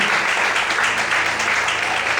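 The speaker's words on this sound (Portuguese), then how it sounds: "Mais palmas, amém?" A church congregation claps steadily during a Sunday morning service, a dense, even wash of applause from a crowd filling the room without pause.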